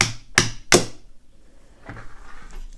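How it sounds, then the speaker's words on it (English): Two sharp metallic hammer whacks on a rod driven through an Abus Granit 37/80 padlock ring out close together, followed by a softer knock and faint handling noise. "I just took the screw out of and give it a couple whacks with a hammer."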